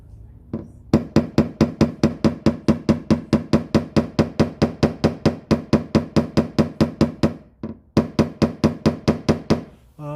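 Dent repair hammer tapping a metal car panel in steady rapid strikes for hammer blending, dozens of sharp close metallic taps in even rhythm with one brief pause near the end, no talk.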